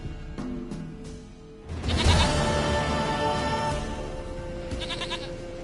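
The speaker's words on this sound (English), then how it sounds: "Goat of mine, dearest," A goat bleats in The Witcher video game, a long wavering bleat rising over soft game ambience after a few clicks, followed by a quieter tail.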